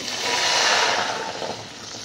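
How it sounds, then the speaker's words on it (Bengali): Milk, a full kilogram, pours into a wok in a home kitchen, a steady liquid rush that swells then eases over two seconds, close and alone without talk. "সাবুদানাগুলো তুলে নেবার পর ওই কড়াইতে দিয়ে দিচ্ছি 1 কেজি দুধ"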